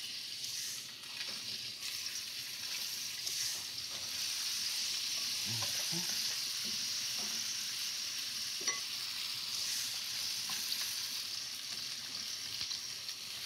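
Winter squash pieces go into a pan of reduced marinade, giving a steady hiss of frying with soft stirring scrapes throughout, heard alone with no talk.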